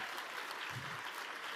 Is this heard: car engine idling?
no